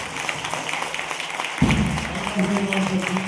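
A church congregation clapping, a busy mix of hands and voices that jumps louder partway through, joined by a sustained tone and continuing chatter underneath.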